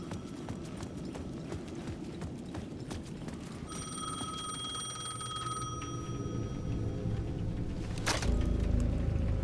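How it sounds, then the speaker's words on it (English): A payphone rings in short bursts over hoof-like clopping and game ambience in Alan Wake 2 on PS5, then a sharp thud near the end. "The payphone at the edge of the plaza was ringing again."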